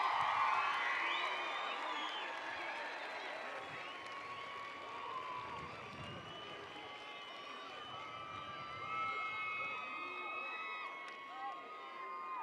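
Graduating class and crowd at a high school commencement clapping and cheering together, a broad, steady roar of applause with whoops and shouts, fairly distant and sustained throughout.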